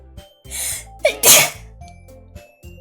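A single loud sneeze bursts out, preceded by a sharp intake of breath, over a quiet background of soft music.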